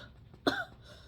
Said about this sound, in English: It sounds like you're coughing on air.